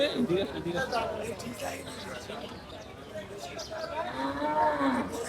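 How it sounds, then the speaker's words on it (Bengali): Cattle moo loudly at close range at the Shajahanpur cattle market, several drawn-out lowing calls rising over a busy outdoor murmur, with people talking in the background. "যার নতুন নতুন গরু চলে আসছে।"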